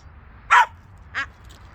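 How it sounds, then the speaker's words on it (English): A border collie gives two sharp barks close by, the first louder than the second, with quiet between them. "So she's barking right now because she wants a treat."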